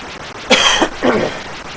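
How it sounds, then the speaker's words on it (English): A man coughs twice, close and fairly loud, each burst short and harsh with a brief gap between, sounding congested as if from a cold. "if you hear me coughing and stuff like that, I apologize"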